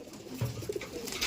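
A pigeon in a loft gives a few soft, low cooing notes, close and fairly quiet against a faint background hum, with no talking.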